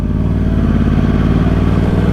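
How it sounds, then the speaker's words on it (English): Exhaust of a 2013 Yamaha R1 motorcycle with a cross-plane crank engine, a loud, steady, throbbing idle with an uneven pulsing beat, close to the microphone. "just listen to that exhaust note. The cross-plane crank engine sounds glorious."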